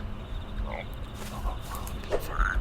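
Frogs croak in a cleaning video game, a scattered chorus of low croaks and grunts over steady ambient background, several calls overlapping at close to middle distance with no voices.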